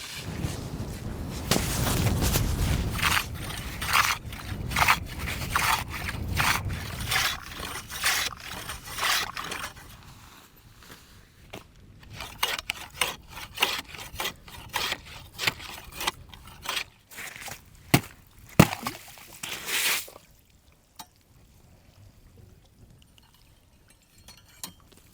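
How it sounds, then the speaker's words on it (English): Someone saws a hole in frozen lake ice by hand, the rough scraping strokes loud and rhythmic at first, then thinning to sporadic scrapes and knocks before falling quiet. "we'll see what the hole looks like after I get done sawing."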